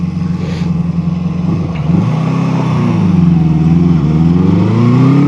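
A 1973 Honda CB350Four four-cylinder motorcycle engine revs while riding, its loud, close tone rising and sliding through gear changes, dipping briefly before climbing again.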